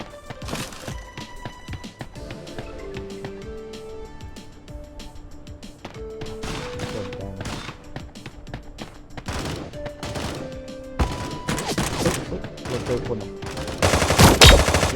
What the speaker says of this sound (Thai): ยิงไปแล้วหนึ่ง ถึงตัวตายเป็นที่เรียบร้อย